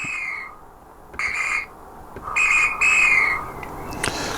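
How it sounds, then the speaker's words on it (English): A toy-like electronic train whistle from a Gaugemaster Scenic model railway sound module sounds in several short blasts with gaps between, clear and high-pitched against a faint background hiss. "which is a whistle"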